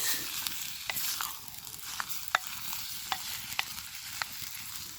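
Goulash meat stirred in a hot pan, a spoon scraping in short irregular strokes over a steady sizzle of frying, close and fairly loud with no voices.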